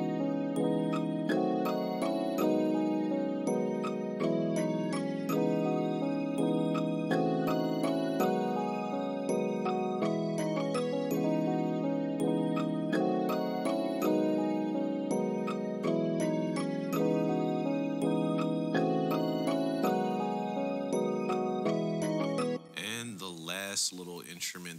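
A full pluggnb beat with pizzicato strings plays loud and dense: steady plucked melody notes over sustained bass and chords in a repeating pattern, ending with a brief warbling, wobbly effect.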